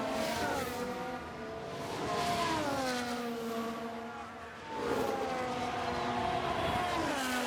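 F1 cars in F1 Manager 2022 at the Canadian Grand Prix weave on track to warm their tyres, their engine notes rising and falling in repeated swoops, fairly loud and continuous, with no voices over them.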